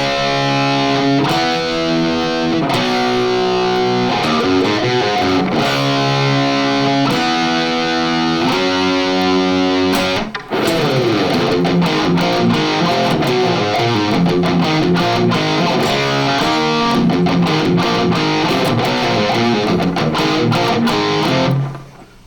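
Distorted electric guitar plays the main riff of Saxon's Carpe Diem, a chugging low-string pattern built on open-string pull-offs, loud and steady throughout with no talking.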